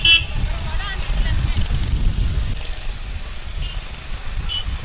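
Busy city traffic in Anna Nagar East, Chennai, heard from a bike taxi, a dense low engine rumble with short, faint horn toots scattered through and voices mixed in.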